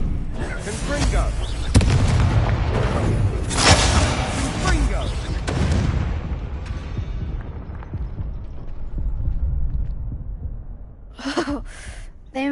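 A Confringo spell fired in Hogwarts Legacy bursts into a string of booming, crackling explosions with rumbling tails, loud and close, fading into a lull before a few sharper bangs near the end.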